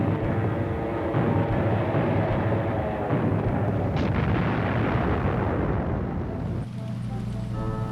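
Heavy artillery and big naval guns from battleships anchored offshore, a continuous dense roar of explosions and rumbling bombardment with no clear gaps, loud throughout and overlaid with some indistinct voice-like sound.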